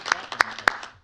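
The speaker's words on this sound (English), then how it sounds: "let's give her a round of applause" A few scattered hand claps from a small group at a city council meeting, marking a councilmember's birthday; three sharper claps stand out over a brief, thin patter, with a faint voice underneath.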